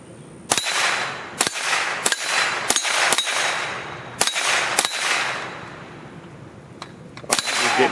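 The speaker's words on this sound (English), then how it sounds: "Try shooting it further out on the edge of the paddle." .22LR rifle shots ring out one by one, each crack followed by a sharp metallic clang as bullets strike steel dueling tree paddles, about ten hits over several seconds outdoors.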